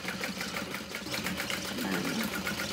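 A sewing machine stitches a handbag along its outer stitch line, a steady rapid mechanical whir with a regular fast needle rhythm, close and continuous without pause or talk.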